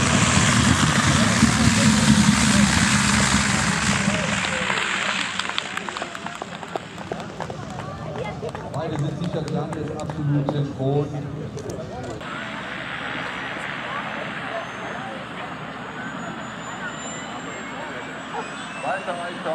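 Two aerobatic aircraft landing together at an air show airfield, a loud engine roar fading to a lower running drone, with someone speaking over it for much of the time.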